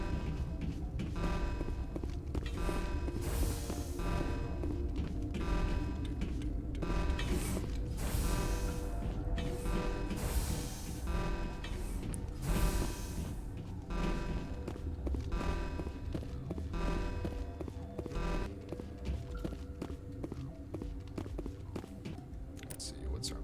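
Green door mechanism opening in the Mass Effect video game, with a long run of grinding, creaking, ratcheting gear clanks and thuds that keeps going, layered over game sound.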